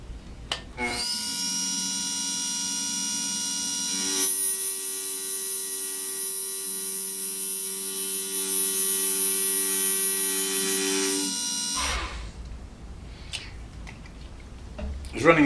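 A carbide milling cutter taking a small cut across the rough sheared end of 1 by 3/4 inch cold rolled steel at 1500 RPM, a steady high-pitched whine held for several seconds between spindle starts and stops, loud and close.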